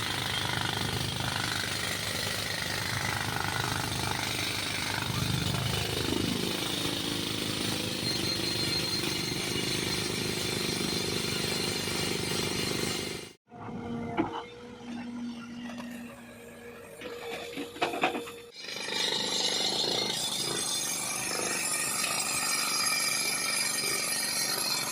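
A rock drill bores into stone while a new well is dug on a farm field. The pneumatic hammering is loud and continuous, breaks off for a few seconds partway through, then resumes at full force.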